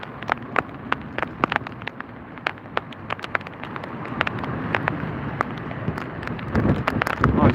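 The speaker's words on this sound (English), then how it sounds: "It started raining." Rain patters steadily outdoors around a kayak during fishing, with a dense wash of drops, sharp scattered taps on the hull, and a rising gusty rush toward the end.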